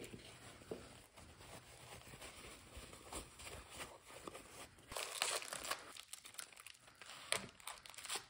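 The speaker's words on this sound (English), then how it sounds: "I think I'll do the same thing and wrap it in paper towels just to protect all those points." Paper towels being crumpled and wrapped around a pointed citrine crystal for packing, soft crinkling and rustling in irregular bursts, quiet and close, with no talk.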